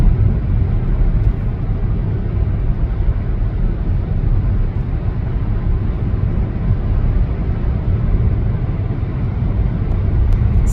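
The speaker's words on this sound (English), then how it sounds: "Riyadh traffic is calm this morning, easy going on the roads" Steady, loud road traffic rumble on a calm morning in Riyadh, a continuous broadband drone of passing vehicles with no pauses and no voices.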